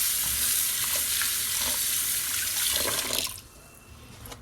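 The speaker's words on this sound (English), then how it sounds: "Then another water on it, just to wash it for the starch." Rice being washed in water to remove starch, with a steady swishing, splashing wash of water and stirring, then a quieter stretch near the end; no talking.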